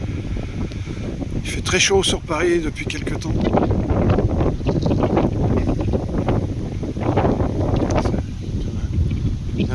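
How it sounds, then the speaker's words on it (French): Strong wind buffets the microphone outdoors during a walk in L'Isle-Adam on a hot day, a constant rumbling roar under someone speaking French throughout. "Désolé pour le vent se lève"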